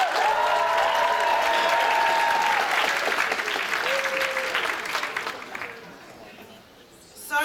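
An audience at a school writers' week event claps steadily and loudly for several seconds, then the applause thins and fades out as a voice begins at the very end.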